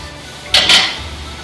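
Mushrooms drop into a hot stir-fry pan. A brief burst of sizzling and clatter lasts under half a second, close and loud, against a quiet kitchen background.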